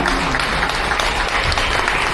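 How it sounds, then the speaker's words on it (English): Audience at the ETHDenver hackathon final gives the judges a big round of applause, loud, dense and sustained clapping throughout with no talk over it. "Big round of applause for them."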